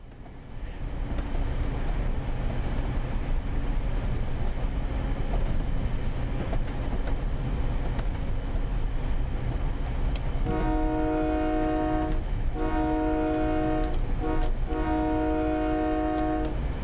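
A train horn in Train Sim World 5 sounds in three sustained blasts with a reverberant tail, over a steady rumble of the moving train and rolling wheels that fills the whole stretch.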